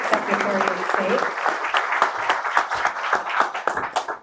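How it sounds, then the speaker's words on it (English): Audience applause greets Minnesota Secretary of State Steve Simon at a political event, a dense rattle of clapping that rises and thins over a few seconds, with some voices mixed in. "Another thunderous round of applause."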